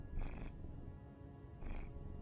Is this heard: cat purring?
yes